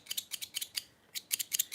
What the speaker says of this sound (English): These scissors, they're clippers.